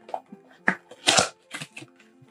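A pack of Panini Prizm draft pick baseball cards is torn open and handled, with close crinkling wrapper rustles and a few sharper crackling bursts over about two seconds.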